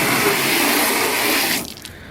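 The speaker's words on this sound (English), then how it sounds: "So here is the hood. I'll hit it with some water." A hose sprays water onto a car hood with a loud, steady hiss that cuts off abruptly near the end, leaving only faint dripping.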